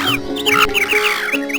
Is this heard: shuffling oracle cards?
no